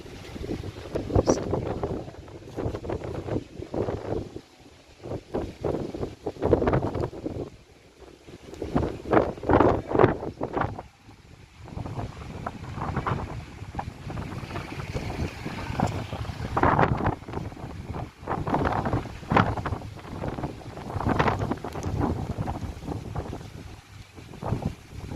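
Gusty wind with light rain buffets the microphone in uneven bursts, rising and falling in loud rushes with a faint background hiss throughout.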